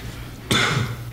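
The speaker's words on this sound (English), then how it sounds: "So my first cough in the podcast." A single sharp cough from a podcast host, bursting out suddenly near the middle and trailing off over about half a second against a quiet room hum.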